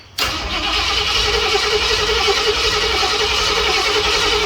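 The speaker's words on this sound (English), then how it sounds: "I'm not getting any fuel yet to the squirters yet, so keep cranking." A car engine cranks on the starter, a steady loud churning drone that holds without catching for several seconds, close to the microphone.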